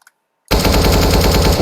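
Loud, continuous automatic fire from an AK rifle in Counter-Strike: Global Offensive bursts in after a moment of silence, a rapid steady stream of close gunshots.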